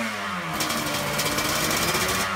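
A two-stroke engine, likened to a chainsaw, rattles and buzzes in rapid pulses with a raspy, revving drone, close and steady over a couple of seconds.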